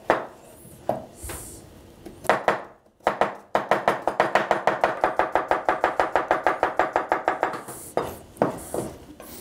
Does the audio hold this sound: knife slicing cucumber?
yes